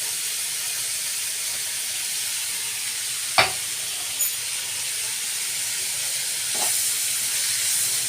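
Onions with chicken stock sizzling steadily in a pan, a constant bright hiss with a couple of sharp utensil knocks partway through, no voices.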